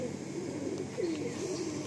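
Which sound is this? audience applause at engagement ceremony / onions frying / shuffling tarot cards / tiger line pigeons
tiger line pigeons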